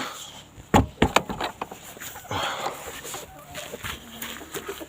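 Hens clucking in a henhouse on a frosty Sunday morning: a cluster of sharp, fairly close squawks and clucks early on, then softer scattered clucking over a low ambient hum.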